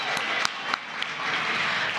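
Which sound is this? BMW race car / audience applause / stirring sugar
audience applause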